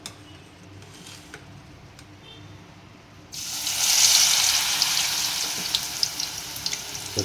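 Gobi kababs dropped into hot oil in a pan: quiet at first, then a sudden loud, hissing sizzle breaks out and keeps crackling steadily.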